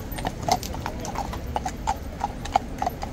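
Hooves of horses wearing poppies clip-clop steadily on a hard street, a regular series of sharp knocks at moderate distance over a constant outdoor murmur.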